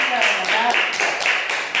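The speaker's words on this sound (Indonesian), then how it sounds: "kasih tepuk tangan dulu sebelum presentasi sama temennya" A classroom of students claps in a quick, even rhythm before a group presentation, about four beats per second and fairly close, with a voice heard faintly underneath at the start.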